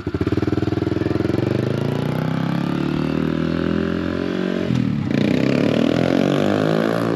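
A mini bike's small engine runs steadily up close, its pitch rising and settling with revving and a brief dip near the end, loud and continuous with no talking.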